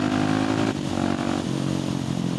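A motorcycle revs steadily and loud and close, with a brief dip as it shifts down and then pulls on hard, the engine drone alone and continuous.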